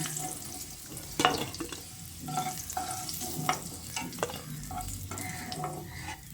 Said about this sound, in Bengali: আলুগুলোকে একটা ছাঁকনার সাহায্যে তেল থেকে ছেঁকে তুলে নিচ্ছি